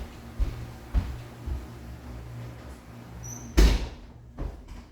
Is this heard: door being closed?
yes